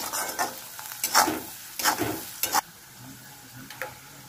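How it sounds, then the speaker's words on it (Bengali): Onion fries in oil with salt while being stirred, giving a quiet sizzle broken by repeated scraping strokes of the spoon against the pan, some close and sharp. "একটু নাড়বো নুন দিয়ে। বেশি ভাজবো না পেঁয়াজটা।"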